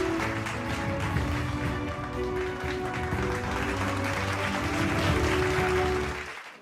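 Audience applause at a Karnataka Icon award ceremony for a singer, a dense sustained clapping that runs steadily for several seconds and then cuts off, with a musical tone underneath.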